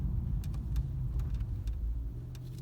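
A Ford Crown Victoria with a performance mod runs in a low, steady engine rumble heard from inside while driving, with faint clicks over it.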